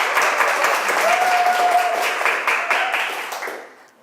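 An audience at a youth policy report event in Cheongju gives a presenter a full, steady round of applause that holds for several seconds, then fades out toward the end.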